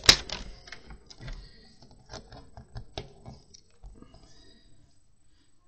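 A paper trimmer cuts along the edge of a handmade Christmas card, producing a quick run of small, dry clicks and scraping ticks that fade out toward the end, close and quiet, with no voices.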